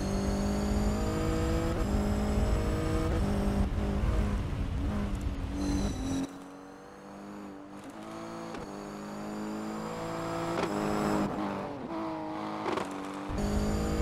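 A Mitsubishi Pajero rally car from the Colin McRae Rally 3 replay roars and revs steadily, engine pitch climbing and dropping through gear changes. It stays loud and close with no talk over it.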